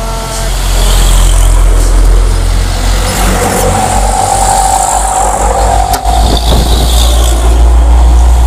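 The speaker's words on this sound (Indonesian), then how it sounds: "Banyak yang truk lewat." Heavy trucks and cars pass along a busy road in Palembang in the morning, a loud continuous rumble of engines and tyres with a revving truck swelling in the middle and a brief air-brake hiss.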